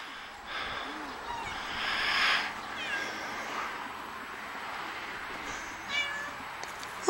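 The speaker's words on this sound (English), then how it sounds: "So, what do you think, Nova? Huh? Kitty, kitty?" A cat meows faintly outdoors around a storm-damaged house, a few soft, separate calls spaced across a quiet, hissy background.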